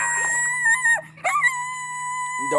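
A dog howls in long, wavering tones, breaking off briefly in the middle and resuming, fairly close and clear with no talking.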